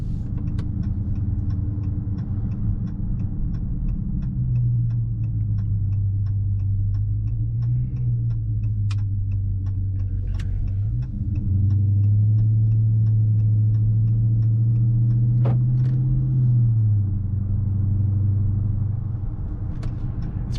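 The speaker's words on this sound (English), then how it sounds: "This car actually has an active exhaust system, so once this car goes into sport," A 2022 Dodge Charger Scat Pack with active exhaust in sport mode rumbles at a low idle, swelling twice into louder, deeper revs before settling back, with faint ticking clicks over the steady drone.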